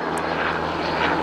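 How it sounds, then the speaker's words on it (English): A helicopter flies overhead on a trail near the Grand Canyon, giving a loud, continuous engine and rotor drone through the whole short stretch. "And I apologize for the helicopter flying overhead."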